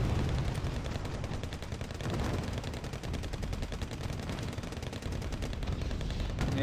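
Combat in the wartime strategy game Wargame Red Dragon produces dense, continuous machine-gun fire and overlapping gunshots, loud and unbroken for the whole stretch without voices.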